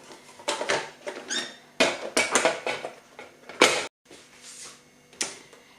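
Apple pieces tumble into a bowl with a sprinkle of lemon juice in a string of close clattery knocks and rustles, loud and irregular with short pauses.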